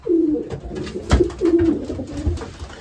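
Racing pigeons coo in a loft, several low throaty rolling calls repeating close by, with a sharp knock partway through.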